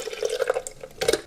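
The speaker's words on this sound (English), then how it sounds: "Pour in my almond milk and a banana." Almond milk pouring into a Vitamix A2500 Ascent blender jar, a short soft liquid splash and trickle lasting about a second, close and quiet.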